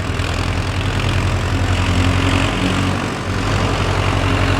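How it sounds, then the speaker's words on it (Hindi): A Mahindra Arjun 4WD 50 HP tractor engine runs steadily in high first gear at about 1500 rpm, a loud, continuous low diesel drone with an even rumble and a slight dip partway through, no voices. "हाई के पहले गियर में ये ट्रैक्टर हाई स्पीड में कितनी खिंचाई कर सकता है"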